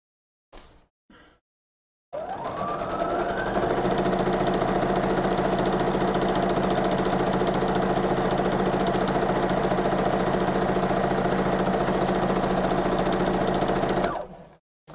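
A sewing machine stitches fabric for a big bow, running alone in one steady, even whir for about twelve seconds after a couple of brief clicks, then stopping.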